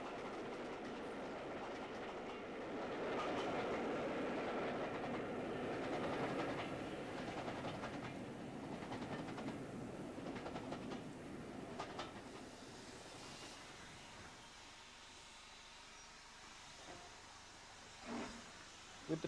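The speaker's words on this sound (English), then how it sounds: "The train is now running off the main line in order to reverse direction." A 7mm O gauge model train runs on a large layout, a steady rolling clatter and hiss holding for most of the stretch before easing off and thinning to quiet rail noise with a couple of brief clicks near the end.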